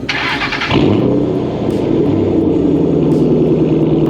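A borrowed Ford Mustang with a 3-valve V8 cranks briefly, then catches and settles into a loud, steady, rumbling idle heard up close.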